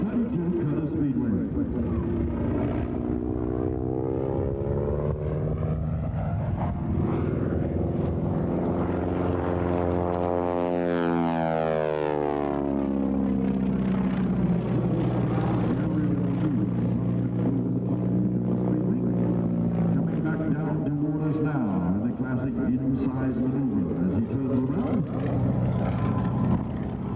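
A 1932 Curtiss-Wright B-14B Speedwing propeller engine drones loudly through an air show flyby at Moffett, its pitch sweeping up then down as it passes, with an announcer talking over it throughout.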